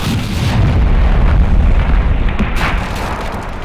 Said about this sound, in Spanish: Parece que hay un intento de fuego de artillería.